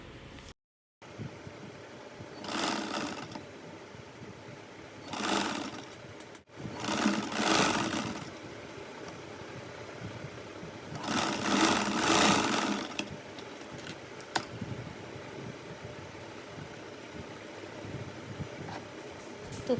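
A sewing machine stitching blouse fabric runs in three distinct whirring bursts, each lasting a couple of seconds, separated by quiet pauses with faint handling noise.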